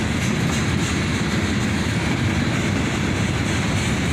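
A CSX freight train led by a pair of SD42 locomotives rolls past close by, with a loud, steady roar of rumbling wheels and rhythmic clickety-clack over the rails throughout.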